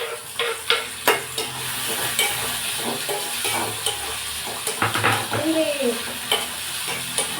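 Tomatoes fry and sizzle in a pan while a spoon scrapes and stirs them in repeated close strokes; a voice speaks briefly.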